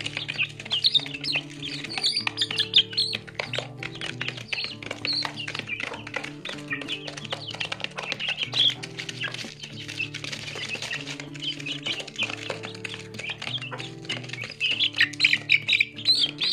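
A flock of rural home-bred barred chicks and young chickens, about two months old, keep up a busy, continuous chorus of close chirps and squawks, with scattered pattering movement and no talking.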